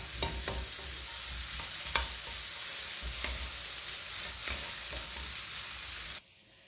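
Sliced onions sautéing in a lightly oiled wok, a continuous close sizzle with repeated stirring scrapes and clicks of a utensil, cutting off abruptly near the end, no speech.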